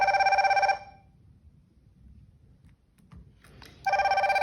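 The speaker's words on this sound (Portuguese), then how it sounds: "esse som que vocês viram aí é da notificação de chamadas" An HW12 smartwatch plays its incoming call ringtone, a loud electronic ring that stops for about three seconds of near silence and then starts again, heard alone with no voices.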